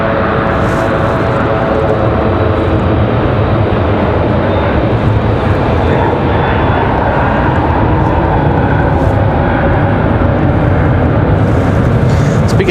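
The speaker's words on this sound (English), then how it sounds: "this is American Airlines 1904 737-800 coming in from Charlotte" American Airlines Boeing 737-800 arriving at Raleigh-Durham airport from Charlotte, a loud continuous rumbling jet roar close to the microphone, unbroken and without voices.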